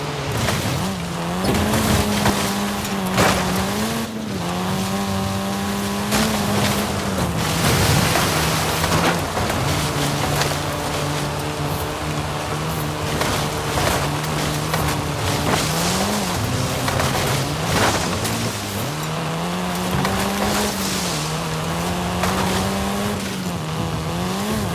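Race cars in Forza Horizon 5 roar continuously at high revs with shifting engine pitch, mixed with a steady rain-like hiss and occasional rumbles throughout.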